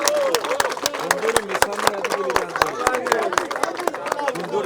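Applause for a record-setting competitor at a compak sporting shooting cup rating stage in Batumi, with sharp claps rippling through a crowd alongside a steady murmur of voices over nearly five seconds.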